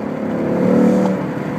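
A 2018 Ford Mustang GT engine roars and climbs in pitch as it accelerates, loud and close, a steady rising drone over about two seconds.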